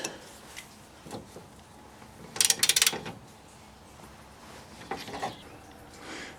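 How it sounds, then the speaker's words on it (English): Bolts being tightened on a gear box steering stabilizer of a Dodge Ram, giving a brief run of quick ratchet clicks in the middle and a few lighter metallic taps after, close and otherwise quiet. "Now I'm tightening up the bolts real good."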